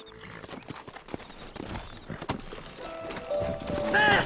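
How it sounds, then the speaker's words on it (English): Horses in the Red Dead Redemption video game clip-clopping along, hooves thudding steadily and rising toward the end, mixed with game music tones and a brief whinny-like sound. "Horses are over here!"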